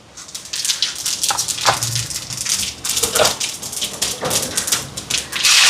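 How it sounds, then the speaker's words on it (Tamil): Mustard seeds crackle and pop in hot oil, part of a vegetarian dish cooked for an almsgiving meal in Jaffna; irregular sharp spits and bursts continue over a steady hiss, close and fairly loud. "இப்போ சூடாட்டுக்கு முன்ன எண்ணெய் சூடாயிட்டு கடுகு சேர்ப்போம் இதோட கடுகு வடிக்குது பாருங்கள்"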